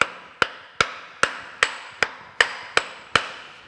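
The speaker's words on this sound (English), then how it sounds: "So I'm just gonna tap it up on there with a lead hammer here." Nine sharp metallic taps from a lead hammer seating a slotting attachment onto a Kearney & Trecker horizontal milling machine, evenly spaced about every half second, each ringing briefly before the next strike, close and clear.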